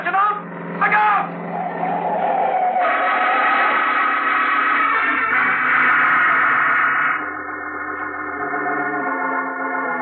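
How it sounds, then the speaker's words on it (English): A car skids in an old-time radio show sound effect, a loud, sustained tire screech with engine noise that runs for several seconds before fading into a lower tone, with voices from the drama mixed in. "Hey, mister, look out for that car."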